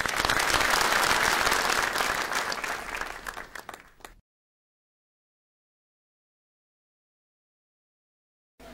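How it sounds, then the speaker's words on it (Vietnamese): A live show audience bursts into loud, dense applause that gradually thins and fades out over about four seconds, followed by silence. "chúng ta cùng dành một tràng vỗ tay"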